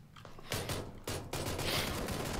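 Gunfire in the battle royale game PlayerUnknown's Battlegrounds: two or three loud bursts of shots in close succession over a steady background of game noise, with no talk.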